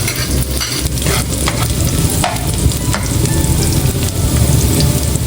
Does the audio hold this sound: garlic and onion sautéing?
yes